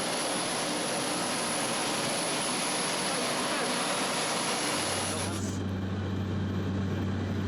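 Steady roar of a jet airliner cabin on a flight to Khiva, Uzbekistan over the Kyzylkum desert, a constant broadband engine drone with a high whine that drops away as the tone shifts lower near the end.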